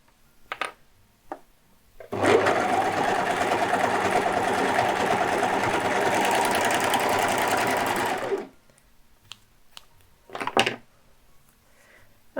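A serger (overlocker) stitches a seam in a home sewing session, running steadily and loudly for about six seconds as one continuous motor whir, with brief clicks and handling noises before and after.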